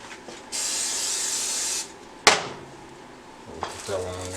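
A single hissing burst of cooking oil spray onto a pan lasting just over a second, followed by a clink of the pan and faint kitchen clatter.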